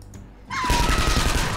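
Gunfire bursts in the turn-based strategy game Skyshine's Bedlam: after a short quiet gap, a loud rapid volley of shots rattles out, with a sustained tone ringing above the repeated blasts.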